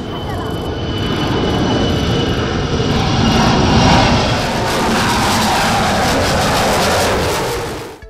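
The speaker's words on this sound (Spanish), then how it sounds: "Develan aviones chinos de última generación." A new-generation Chinese aircraft's engines roar loudly and continuously, with the thunder swelling and then holding steady, and no talk is heard.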